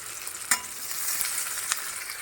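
Chopped tomatoes fry with onion and garam masala in a hot pan, giving a steady close sizzle with a few sharper crackles and stirring scrapes, no talking.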